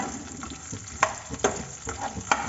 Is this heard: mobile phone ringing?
no